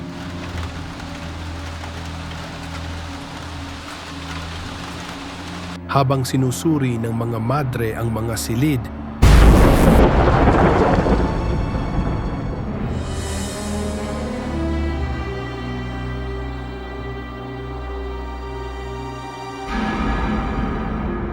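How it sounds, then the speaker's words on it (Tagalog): A strong storm pours steady, loud rain at night over an orphanage in a Filipino horror short, with a heavy burst about halfway through. Narration runs over the rain for much of the time. "Isang gabing malakas ang bagyo, nawala ng kuryente ang buong ampunan."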